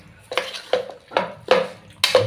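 Spoon scraping and clinking against a pot while a meat and fenugreek mixture is stirred, about five distinct scraping strokes in an uneven rhythm, close and moderately loud, with no talking.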